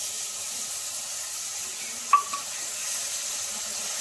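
Spiced shrimp and a ground mustard-poppy seed paste frying in oil in a home kitchen, a soft continuous sizzle with a brief utensil clink partway through and no voices.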